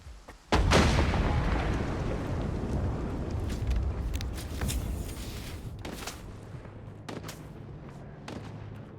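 Gunfire from Monolith snipers in the S.T.A.L.K.E.R. video game: a loud, close blast opens, then booming shots crack at intervals with echoing tails.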